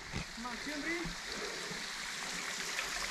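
A cold, spring-fed stream at Arroyo Los Naranjos in Baja California Sur runs with a steady, close rushing wash, while a voice calls out briefly near the start.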